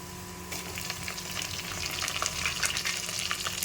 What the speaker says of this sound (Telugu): బిర్యానీ ఆకు ఈ మసాలా ఇవి కూడా పచ్చివాసన పోయేంత వరకు బాగా వేయించుకోవాలి